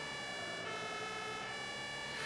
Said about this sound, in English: And we'll put our sirens on.